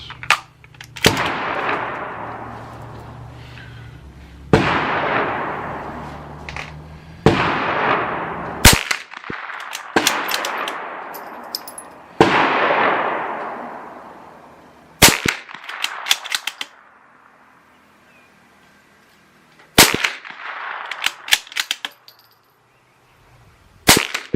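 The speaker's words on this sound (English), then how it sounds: "Last stuff we got out here is some of this Remington 22 Golden Bullet. Send 5 of these." A Bergara B-14R .22LR bolt-action rifle fires Remington Golden Bullet ammunition outdoors, with sharp cracks repeating at intervals of a few seconds, each followed by a brief decaying echo, interspersed with clicking bolt-handling noises.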